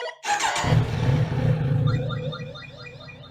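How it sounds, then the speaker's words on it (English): A Kawasaki Z900RS motorcycle fitted with frame sliders and auxiliary lights starts up in a shop, a sharp crank into a loud engine catch that settles into a steady, slightly pulsing idle. "What I'm going to do now is start the bike"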